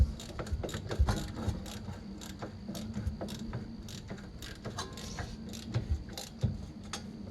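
A ratchet tightens 15 mm bolts on a 2008 Chevy Malibu during rear wheel bearing and brake work, producing quiet, quick clicking ratchet-pawl ticks in irregular bursts close by, with no speech.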